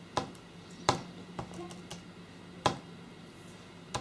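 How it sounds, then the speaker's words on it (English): Computer keyboard typing, sparse isolated key clicks and a few sharper taps spread unevenly over several seconds, close and fairly quiet in a still room with no one talking. "now I'm typing"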